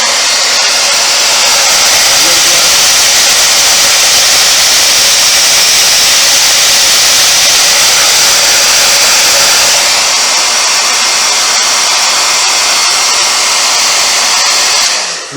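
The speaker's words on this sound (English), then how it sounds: "Look how I'm still drying the mask with the blow dryer" A handheld blow dryer drying a wet painted latex face mask, a loud steady rushing whoosh held close and unbroken for about fifteen seconds before cutting off.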